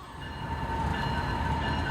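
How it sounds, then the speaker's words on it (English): A Norfolk Southern freight train passes westbound on the Dayton District, a loud, steady rumble with a sustained horn-like tone over it, continuous and close, with no talking. "we saw another NS freight train, this time going westbound on the Dayton District"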